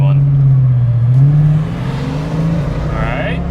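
A 1990 Ford Mustang LX pulls hard through the gears, its engine drone climbing in pitch, dropping at a shift, then rising again, loud and close with occupants talking over it.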